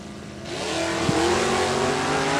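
Two NHRA Stock Eliminator drag cars, a red GTO and a yellow Camaro, launch from the line together with a loud, steady engine roar that swells and holds, plus a brief sharp burst near the middle.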